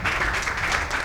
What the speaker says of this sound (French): Ah oui, ça s'applaudit.